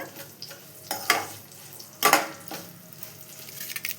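Pieces of fried bitter gourd frying in a pan give a low, steady sizzle, broken by a few sharp scraping bursts as they are stirred, close by and fairly quiet.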